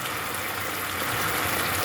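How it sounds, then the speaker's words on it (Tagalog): Water runs steadily, a close continuous rushing hiss with no breaks, alone without any voices. "Tubig!"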